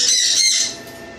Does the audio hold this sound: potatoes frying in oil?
no